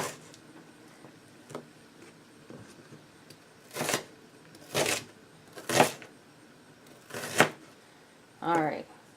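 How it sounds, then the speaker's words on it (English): Slicing food for potato hash, a knife makes a series of sharp crisp cuts, about five loud strokes spaced roughly a second apart after a few quieter taps, close by with faint background sounds. "So I'll cut this one into slices."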